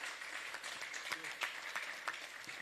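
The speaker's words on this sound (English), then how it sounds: "Please give them an applause." Audience at a cybersecurity panel applauding the panelists, a brief smattering of scattered claps, fairly faint and roomy, with a voice over it.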